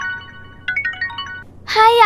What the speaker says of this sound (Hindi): आकने का फोन है।